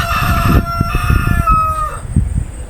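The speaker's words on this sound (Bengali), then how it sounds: "দেখছেন মুরগির ডাক?" A rooster crows loudly and close by, one long drawn-out call, among chickens living in a Malaysian jungle, over a background of clucking and rustling.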